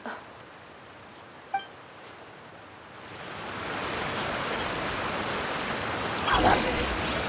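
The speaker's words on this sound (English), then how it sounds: "That water's loud." Loud rushing water in the Genshin Impact video game swells into a dense, steady roar, with a brief beep early on and the flow growing louder partway through.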